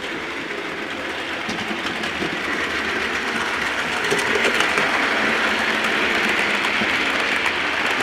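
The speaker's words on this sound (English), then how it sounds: "So this is the X1805 from Birmingham New Street to Glasgow Express." An X1805 passenger express from Birmingham New Street to Glasgow rushes past with a sustained loud roar and rail clatter that builds slightly midway, with no talking.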